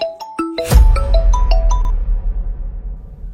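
A mobile phone plays a ringtone of bright chiming notes in a quick rising melodic run, loud and close, with a low rumble underneath and no talking.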